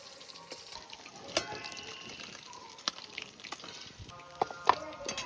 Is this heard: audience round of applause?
no